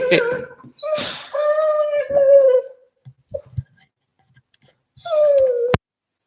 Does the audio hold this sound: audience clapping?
no